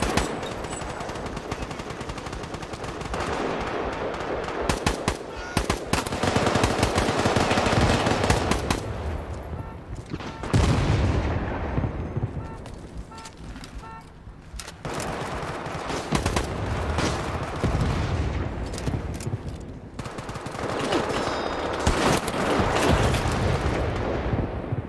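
Artillery blasts and rapid gunfire from a war video game, loud and continuous, with dense bursts of shooting and heavy booms rolling through the whole stretch.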